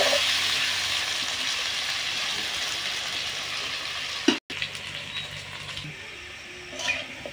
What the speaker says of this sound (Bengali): আলু কড়া লাল লাল করে ভেজে নেব।